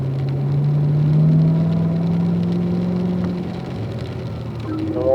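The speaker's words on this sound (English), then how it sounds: "So unwind and squeeze on that throttle" A car picks up speed on the Spring Mountain track in heavy rain with the throttle squeezed on, the engine humming loud and close with a rising whir, easing slightly before climbing again.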